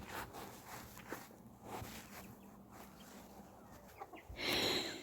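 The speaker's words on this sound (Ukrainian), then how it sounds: "Подивіться, вон курчата куди йдуть." Chicks and chickens cluck softly and scratch about while free-ranging outdoors, with light rustling steps and a brief burst of louder fluttering near the end.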